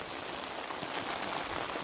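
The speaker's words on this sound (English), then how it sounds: "Well, that rain is heavy." Heavy rain drumming on an Alpkit Rig 7 tarp during a storm, a loud, dense and continuous patter close overhead with no break and no voices.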